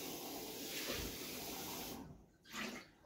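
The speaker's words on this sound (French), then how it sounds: "je vais rincer ma tasse" Tap water runs steadily as a cup is rinsed in a kitchen sink, a continuous close splashing flow that briefly cuts off, then gushes again for a moment near the end.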